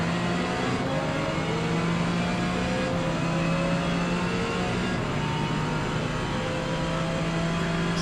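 A 900-horsepower Ferrari race car in a racing game holds a steady, loud engine drone with a sustained tonal whine, running continuously without speech.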